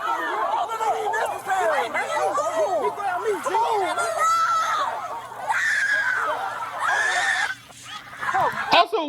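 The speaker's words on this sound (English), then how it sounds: "why is everyone screaming like that?" A crowd screams during a high school band's fifth-quarter performance in Alabama, with dense overlapping shrieks, yells and chatter filling the whole stretch and continuing loudly throughout.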